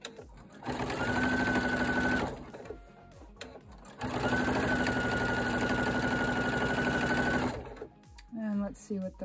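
A sewing machine runs in two sustained bursts while stitching quilt binding through a 5/8-inch quilt binder attachment, its rapid motor hum and needle clatter close and steady, separated by short pauses with handling noises.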